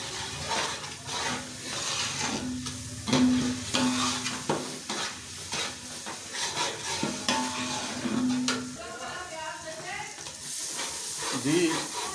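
Fried onions stirred into chicken korma in a large pot, with repeated scraping and stirring over a low sizzle and hiss, while someone talks over it intermittently.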